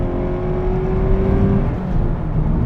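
A Subaru BRZ tS engine drones loudly and steadily as the car accelerates hard under full throttle through a sweeping bend, with a whirring note and no voices.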